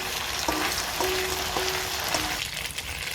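Chicken pieces and onions frying in a hot pan, a steady loud sizzle with a few brief scraping stirs, close by and uninterrupted, no one talking.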